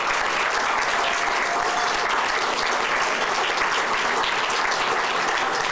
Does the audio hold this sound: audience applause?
yes